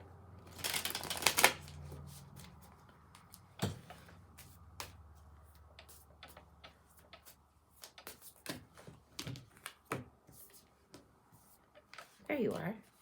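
A Beyond Lemuria oracle card deck is shuffled in a riffling burst near the start, then cards are tapped and handled in scattered soft clicks and slaps, close by in a quiet room.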